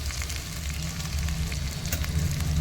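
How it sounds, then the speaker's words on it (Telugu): Masala with chilli powder and salt frying in oil for a raw tamarind fish curry, a dense continuous sizzle with crackling pops and a low burner rumble underneath, close and steady with no talking. "మసాలా అంతా ఫ్రై అయ్యే వరకు ఫ్రై చేసుకోవాలి బాగా"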